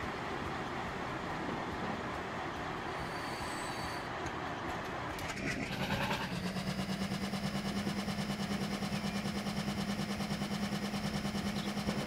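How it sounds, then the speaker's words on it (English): Diesel locomotive engine in the video game Transport Fever 2, with rolling train noise that gives way to a loud, steady droning engine hum at about six seconds, continuing evenly to the end. "Annoying, but I guess that's just the way a diesel engine sounds."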